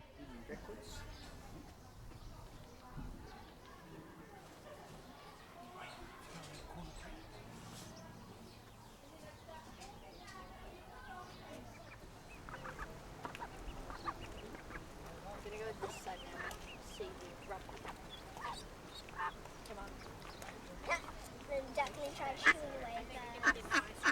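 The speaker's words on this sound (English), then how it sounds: "I saw these interesting looking birds in early October 2025, but I don't know what species they are" Ducks or similar birds call at Firth Tower Museum in early October: faint, scattered quacking and honking over soft outdoor background, growing busier and slightly louder toward the end.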